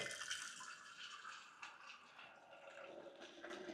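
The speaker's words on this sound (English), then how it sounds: "I'm gonna go fill up our vase with water." Water gushes steadily into a vase being filled for a cut flower arrangement, a close, continuous splashing hiss that wavers slightly in strength and carries on without any talking.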